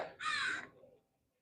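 One crow gives a short, harsh caw at moderate distance outdoors, a single clear call that fades quickly into quiet.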